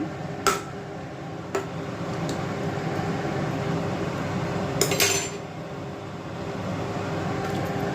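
Ridge gourd dal with salt and turmeric being stirred in a pot, the spoon giving a few sharp clinks against the metal rim over a steady low kitchen hum, with no talking.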